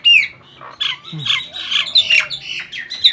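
A flock of birds chirps and squawks continuously, close and lively, with overlapping calls and no talking.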